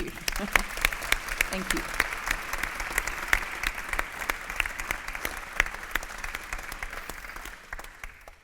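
Audience applause after a public speech on women in public life, a dense, steady wash of many hands clapping for about eight seconds, tapering at the end, with a brief spoken thank-you over it.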